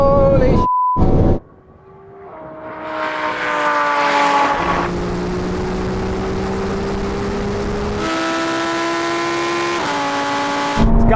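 Ferrari 296, McLaren 750S, Lamborghini Huracan Performante and Porsche 911 Turbo supercars launching in a half-mile drag race, engines revving loudly through rising gear pulls with a brief drop between shifts, heard up close.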